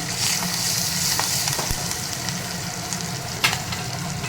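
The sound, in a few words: curry leaves and asafoetida sizzling in oil, stirred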